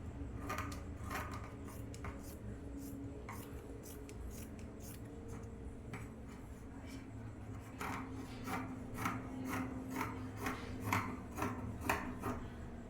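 Scissors snipping through blouse lining fabric in a sewing session, a steady run of short crisp cuts repeating close by, getting a little louder toward the end, with no talking.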